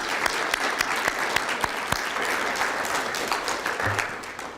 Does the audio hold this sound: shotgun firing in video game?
no